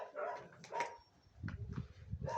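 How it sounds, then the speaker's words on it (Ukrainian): Small puppies in a kennel yard whimpering and yapping in short, high bursts, close by, with brief pauses and some low rustling between calls. "Зараз буду малих цуценят годувати."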